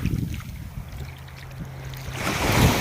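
Sea waves wash onto a beach in a steady broadband rush, swelling louder toward the end, with wind buffeting the microphone.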